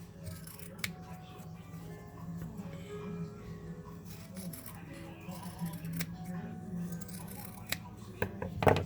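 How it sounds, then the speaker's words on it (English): Scissors snipping through fabric applique petals for a cotton and lace quilt, a series of close, crisp cutting clicks under a low background hum, with a voice briefly speaking partway through. "I put my pattern right back on it, and I cut them again"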